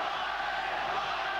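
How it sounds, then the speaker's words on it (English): A boxing arena crowd roars steadily in the background during a bout, cheering on the fighter Paez, a dense continuous wash of screaming and yelling voices. "You can hear the crowd in the background screaming encouragement for Paez"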